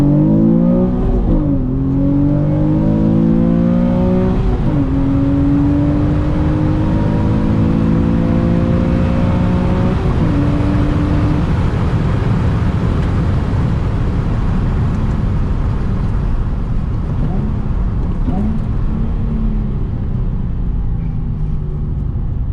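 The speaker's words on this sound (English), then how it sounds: "I'm gonna do a little first gear pull" Nissan 350Z NISMO accelerating hard through first gear, a loud, steady engine roar that climbs in pitch with each rising sweep, heard close from inside the car and holding a heavy rumble throughout.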